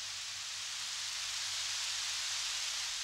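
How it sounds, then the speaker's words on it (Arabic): Rain falls in a steady, even hiss with no breaks or distinct drops, a soft constant wash of noise throughout. "تعال لنختبئ، إنها تمطر"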